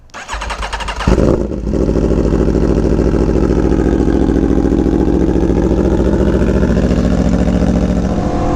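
An Aprilia Tuono motorcycle engine cranks briefly, fires up with a sharp catch, then settles into a loud, steady, throbbing idle that runs on close by, with no talk.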